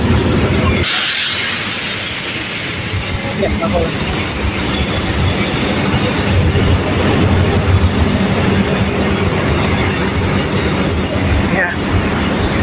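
A steam train races alongside train 284 on Mother's Day, a loud, close roar of rolling wagons with squealing wheels, rattling clatter and hiss, steady and heavy throughout.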